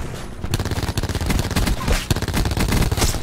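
Rapid automatic gunfire from the video game Call of Duty Black Ops 4 rattles in dense, loud bursts with sharp repeated shots throughout, close up.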